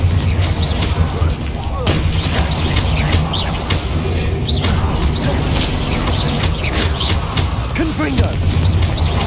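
Confringo spell blasts in the video game Hogwarts Legacy crack and boom in rapid succession over a dense, loud, continuous rumble of combat, with a person talking throughout.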